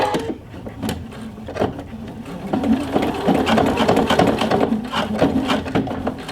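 A sewing machine stitches a patch onto leather after the presser foot is lowered, giving a steady, close mechanical whir with a rapid needle rhythm that runs continuously and slightly louder through the second half.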